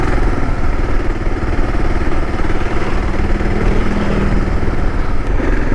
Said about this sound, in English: here's a dirt bike guy right here